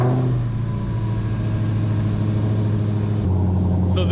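A powerful Dodge Hellcat engine starts and rumbles loudly at close range, holding a steady deep idle with a brief rev, then drops to a lower idle near the end.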